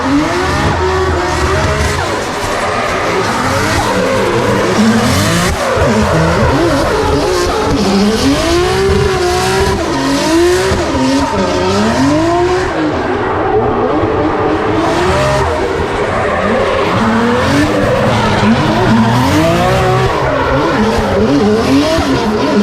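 A drift car at a D1 Grand Prix practice session skids through repeated slides, its engine revving hard and tires squealing in rising and falling sweeps, loud and close with no talk throughout.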